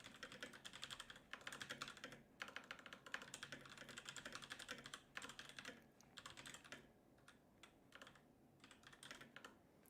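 Quick bursts of typing on a computer keyboard, rapid clattering keystrokes in uneven runs with short pauses between, close and fairly soft, no voices.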